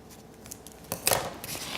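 Scissors cut a bakery piping bag, giving a few quiet snips and rustles followed by one sharper crisp cut, close and faint, with no one talking.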